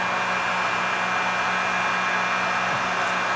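A heat gun blows steadily on a fishing lure freshly painted black in a Fire Tiger pattern, giving a continuous, even airy roar with no breaks and no voices.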